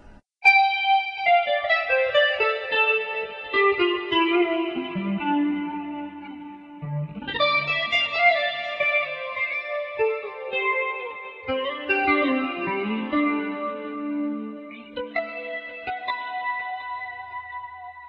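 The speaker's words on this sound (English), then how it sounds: "So you can hear it's just this real kind of wet, ethereal sound." Electric guitar single notes played with volume swells through a wet, ethereal chorus effect, a slow melodic line with a bar bend, sustained and alone.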